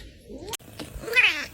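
A single close cat vocalization, a short drawn-out yowl with breathy hissing noise, heard alone without talk.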